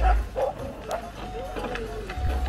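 Husky sled dogs at a park in Finland give excited yips and barks in short bursts, with a person talking over them throughout.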